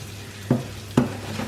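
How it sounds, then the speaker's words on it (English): Minced garlic frying in a pan with crispy rendered bacon: a soft steady sizzle broken by two brief stirring scrapes, with no talk. "Just adding the garlic that I minced up earlier. I'm going to let it cook off slightly."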